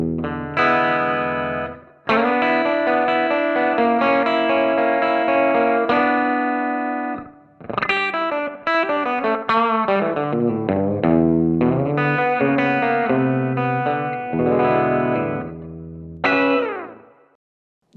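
Electric guitar played through a Valeton GP-5 multi-effects unit set to a tweed deluxe style amp tone with delay, picking sustained chords and melodic phrases that ring out with echo trails between short pauses, played alone.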